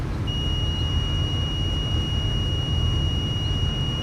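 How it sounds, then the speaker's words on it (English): Warning beeps sound in a plane cockpit in Microsoft Flight Simulator 2024, a steady high-pitched tone held over loud engine and wind noise. "Yeah, you can beep at me all you want."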